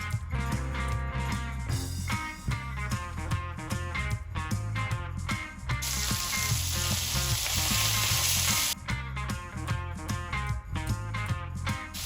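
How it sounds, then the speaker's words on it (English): Crumbled pork sausage sizzling and crackling in a hot pan on a stove set to high while it is broken apart, steady frying hiss under loud background music, with a brighter, denser burst of sizzle in the middle. "start breaking apart this sausage because we're going to cook this up just like hamburger meat"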